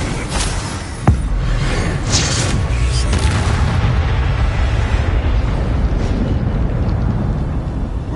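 Incendio fire spell blasting in Hogwarts Legacy, a loud whooshing burst that sharpens into a brief crack, then a roaring, rumbling fiery wash that holds steady for several seconds.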